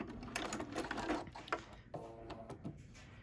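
A sewing machine runs in short bursts while sewing a locking stitch on a hexagon pincushion, quick clattering needle strokes separated by brief pauses, close and fairly quiet with no talking.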